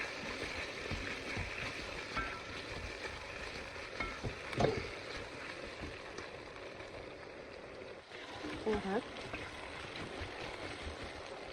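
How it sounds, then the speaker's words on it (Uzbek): Tomatoes frying in a pan for a soup, a soft, steady sizzle with occasional stirring scrapes and a couple of brief clanks, fairly quiet and free of talk. "Endi tomatni solib, yaxshilab qovuramiz."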